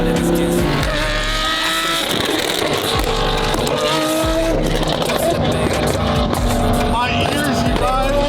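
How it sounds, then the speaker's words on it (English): A turbocharged McLaren car revs and roars nearby, loud engine tones rising and falling with tire squeal mixed in, while excited people talk over it. "Damn, McLaren sounds so sick. Turbos."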